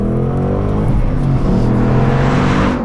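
Ford Mustang Mach 1 accelerating hard, the engine loud and close, its note climbing through gears with a brief dip at a shift before rising again.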